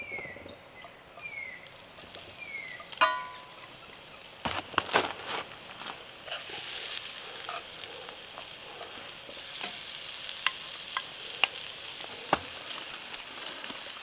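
Ingredients hitting a hot oiled pan over an outdoor bush breakfast: a few knocks and scrapes, then a steady, fairly loud sizzle that fills the rest of the clip, with occasional clicks and stirring.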